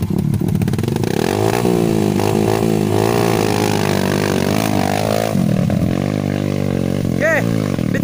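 A trail motorcycle's engine revs and labours close up on a dirt track at a Mindanao trail site in Barangay Olympog, rising and falling in pitch as voices shout around it.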